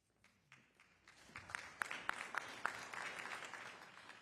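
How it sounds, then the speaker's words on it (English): Clapping from a community meeting audience with the New York City mayor, starting with a few scattered claps and swelling into fuller, steady applause, fairly quiet overall. "They're clapping for you."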